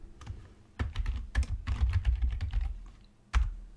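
Someone types a folder name on a computer keyboard, with close bursts of key clicks in uneven clusters and a few sharper strokes, such as a final key press.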